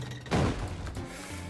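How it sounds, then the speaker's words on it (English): A short burst of muffled explosions from the video game Spelunky 2 rumbles out in a single dull boom with a brief decaying tail, moderately loud and alone. "More explosions, that's..."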